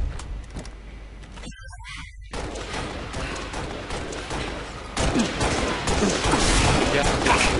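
Shotgun fire in the video game Halo Reach, loud blasts and rapid bursts of gunfire over continuous game noise, growing heavier toward the end.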